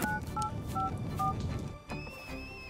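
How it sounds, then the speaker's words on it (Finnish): An electronic telephone rings in a cartoon animal village with a series of short, bright two-tone beeps in a quick repeating pattern, followed by a few longer sustained tones over faint background noise. "Puhelimesi soi taas."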